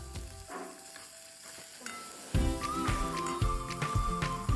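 Dal and spices hit a hot tempering pan for Maharashtrian amti, breaking into loud, close sizzling and crackling with rapid spattering pops that swell abruptly partway through after a quieter start.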